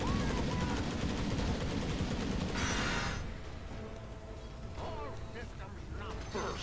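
Gyrocopter's Rocket Barrage in Dota 2 fires as a dense, continuous stream of rapid small blasts and whooshes, loud and busy, then thins into scattered game effects.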